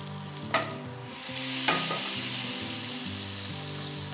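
Butter and oil sizzle in a hot pan for jeera rice, a sharp spattering hiss that jumps up after a couple of clanks and holds loud and steady, easing slightly toward the close.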